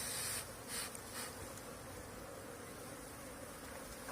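Asian honey bees (Apis cerana) buzz in an orchard, a steady, dense hum that carries on unbroken throughout with no voices.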